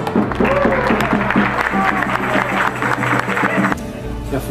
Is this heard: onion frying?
no